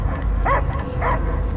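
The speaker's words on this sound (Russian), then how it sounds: "Я только лай слышу." A dog barks twice in the Guardians of the Galaxy video game, two short separated barks over a low rumbling background.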